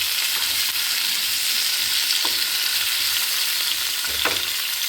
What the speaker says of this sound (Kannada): ತವದಲ್ಲಿ ಸ್ವಲ್ಪ ತೆಂಗಿನೆಣ್ಣೆ ಹಾಕಿಬಿಟ್ಟು ಇದನ್ನು ಸ್ವಲ್ಪ ಫ್ರೈ ಮಾಡುವುದನ್ನು